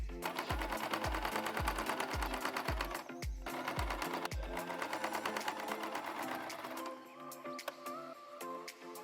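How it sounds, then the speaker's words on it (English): A sewing machine stitches fabric handle strips in a rapid, even mechanical chatter for about four seconds, then stops. Steady background music plays underneath and continues afterward. "fold the edges of the handle strips in and sew"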